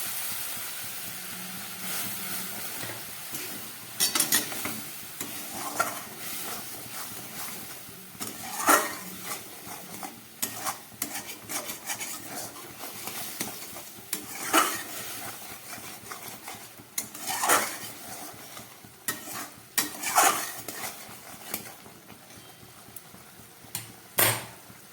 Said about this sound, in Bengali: নিরামিষ পটলের কোরমা রান্না হচ্ছে।